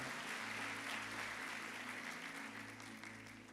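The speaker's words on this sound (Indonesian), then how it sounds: "boleh tepuk tangan yang paling dahsyat buat Tuhan." Church congregation applause during a service after worship, a faint, distant, continuous patter of many hands over a steady low hum that slowly fades.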